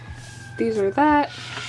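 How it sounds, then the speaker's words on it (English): Faint police and fire engine sirens wail in the distance while a person speaks briefly in the foreground. "the police sirens and the firefighter sirens that you hear in the background"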